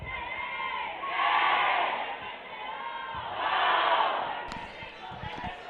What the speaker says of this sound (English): You can hear this crowd. I can barely talk over them.